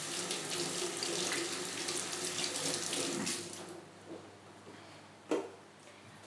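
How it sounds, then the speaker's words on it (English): Tap water runs into a kitchen sink while hands are rinsed, a loud, close, steady gush that cuts off partway, leaving a quiet room with a couple of small clunks. "Rinse the hands."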